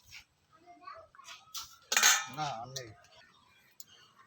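Tangra fish and bitter gourd curry is stirred in a pan with a metal utensil, giving close clinks and scrapes against the pan, loudest around the middle, with a voice briefly audible.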